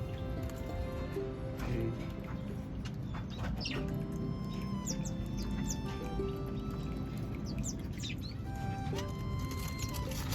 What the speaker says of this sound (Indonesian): ini ada burung datang baru. Ini saya belum kenal namanya.